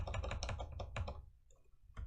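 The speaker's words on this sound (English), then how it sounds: "Keep on hitting backspace instead of space on this keyboard" Quick bursts of clicky keystrokes on a computer keyboard, a close run of taps followed by a short pause and a few more presses, with no voices.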